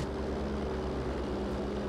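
A bomber plane's engine in Battlefield V drones steadily throughout, a constant low propeller hum with no breaks and no voices over it.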